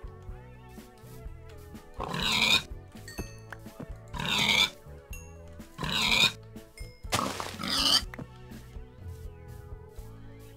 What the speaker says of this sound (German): Guckt euch mal, wie viele Schweine hier sind.